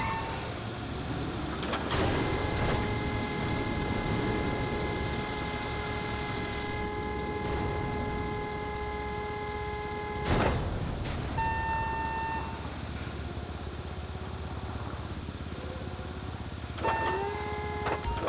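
A container handler, a piece of heavy port machinery in the GTA 5 video game, drones with a steady engine hum, with whining hydraulic tones that rise and stop and a few sharp mechanical clunks, and no talk.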